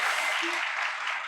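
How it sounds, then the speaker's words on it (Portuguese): Steady applause from a live audience at a podcast recording, a dense wash of hands clapping with a brief voice underneath. "Palmas para Marcela Ceribelli"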